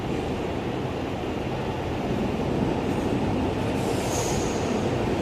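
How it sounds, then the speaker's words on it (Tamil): An MRTS elevated flying train pulls into St. Thomas Mount station, a close, steady rumble of wheels and carriages with a faint high squeal near the end, no voices. "அடுத்த ட்ரெயின் பீச்சிலேருந்து வேளச்சேரி வழியாக மவுண்ட் வந்திருக்கு"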